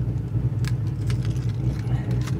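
Keys jangle in a car during a long road trip, with quick irregular metallic clinks layered over a steady, loud low engine rumble. No one speaks.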